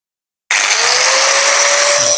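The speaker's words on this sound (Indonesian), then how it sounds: "Oke, kita mulai untuk menggerinda bevel." A Caterpillar DX3092 angle grinder grinding a bevel starts abruptly and holds a loud, steady high-pitched whine, close and continuous.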